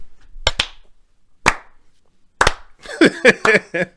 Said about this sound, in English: let's give her a quick little golf clap